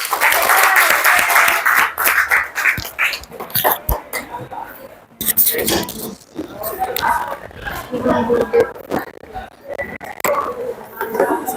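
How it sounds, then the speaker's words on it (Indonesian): Classroom of students applauding a student group after its presentation, a burst of clapping at the start that fades into mixed chatter and talking. "Kasih tepuk tangan untuk kelompoknya Jeffrey."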